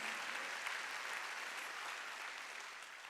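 A church congregation at a Korean Thanksgiving Sunday worship service bursts into sustained applause, a dense, even clapping from many hands that holds for several seconds with no voices over it.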